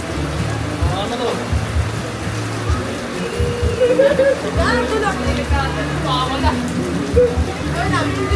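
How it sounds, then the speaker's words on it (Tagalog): Light rain falling outdoors, a soft steady patter on surfaces, with people talking over it throughout. "Umuulan na."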